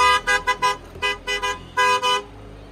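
A Skoda car's horn honking in a series of close, loud toots: a rapid burst of short blasts, two more, then two longer honks, with quiet between.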